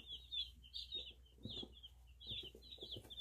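Jumbo Cornish Cross Rock chicks in a brooder give a steady run of high, thin peeps in quick clusters, close by and fairly soft, with faint low shuffling underneath.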